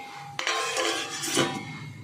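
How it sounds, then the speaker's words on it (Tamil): A jar of homemade Schezwan chilli sauce is closed, a single sharp clink of the lid followed by a short scraping, close up and quiet. "இப்போ நம்ம மூட போகிறோம்."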